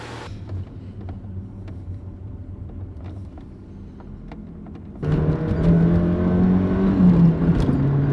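A 1980s Ford Sierra RS Cosworth on a test drive, first a low steady engine hum with faint creaks, then a sudden louder rise of the engine as it pulls away, droning and building.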